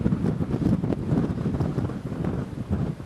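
Strong wind gusting across a beach in the Cabo San Lucas area, a continuous low roar buffeting the microphone with uneven surges and no voices.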